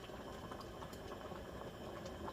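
Pot of kale and plantain boiling on a stove, a steady close bubbling and simmering wash that holds at the same level throughout, with no talk over it.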